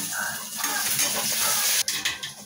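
Sour curry of small fish with turmeric and salt bubbles and sizzles in a pan, a close, busy hiss with a few stirring clinks near the end.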